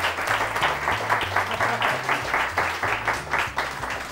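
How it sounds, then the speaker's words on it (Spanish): A studio audience at a Spanish television talk show applauds steadily and fairly loudly, a dense continuous wash of clapping with a low rhythmic beat underneath throughout. "Aplauso también para ella, por favor."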